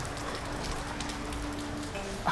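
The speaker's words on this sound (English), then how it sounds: "It is raining right now." Steady rain falls outdoors after a Rangers baseball game, a continuous hiss of drops on surfaces that stays even and moderately loud throughout, with no talk over it.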